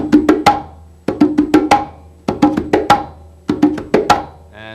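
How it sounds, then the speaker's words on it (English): Close-miked congas play four repeated five-stroke rolls, two strokes on each hand closing with a sharp slap, each group of quick hits separated by brief pauses, loud with no talking. "first let's learn the 5-stroke roll, which is 2 on each hand, and on the 5th beat it would be a slap"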